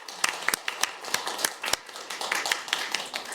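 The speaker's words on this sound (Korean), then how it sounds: "제가 이 자리를 빌어서 우리 또 현장에서 우리 아이들을 돌봐주시는 여러분들 노고를 위해서 박수 한번 보내드립니다." A small audience at a Korean childcare policy forum claps, sparse and uneven individual hand claps, fairly quiet and close, with no talking over them.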